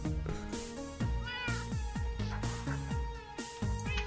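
Cats in the Minecraft video game meow over and over, their short falling cries repeating in quick, overlapping succession at a steady, fairly loud level with no talk.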